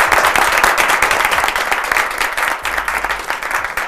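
Studio audience claps loudly for a television crew, a dense steady burst of many hands lasting about four seconds with no voices over it.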